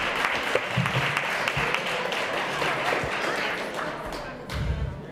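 Audience applause at a panel event in the Michigan State Capitol, a steady dense patter of clapping filling the room for several seconds, with a few low thumps and some voices mixed in.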